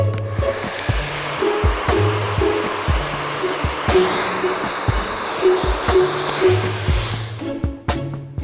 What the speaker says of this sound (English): Now I'm going to blow dry and cold.